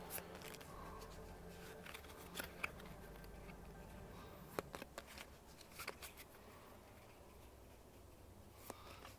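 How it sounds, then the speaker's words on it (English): Cards for the Tiny Epic Dungeons board game are shuffled at a table, giving quiet, irregular riffles and snaps with scattered light clicks, faint and close. "now we shuffle these"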